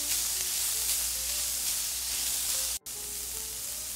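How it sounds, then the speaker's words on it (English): Diced kohlrabi, onion and shredded carrot sauteing in a pan give a steady, even sizzle throughout, with one brief cutout near the end. "I'm putting in our diced kohlrabi and onion and shredded carrot. And just to lightly saute those for about 4 or 5 minutes."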